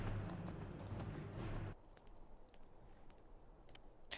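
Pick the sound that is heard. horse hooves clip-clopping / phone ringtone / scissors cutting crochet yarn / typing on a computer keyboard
horse hooves clip-clopping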